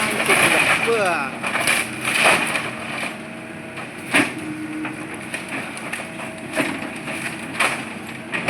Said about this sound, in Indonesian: Bersiap melakukan penghancuran bangunan berikutnya ya teman-teman.